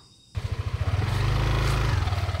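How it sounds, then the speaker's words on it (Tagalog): A motorcycle engine fires up close by and runs with a steady, throbbing idle and some revving as the bike is parked near Sabsaban Falls. "Si Nanay Nining, magpa-park muna tayo ng ng ating motor"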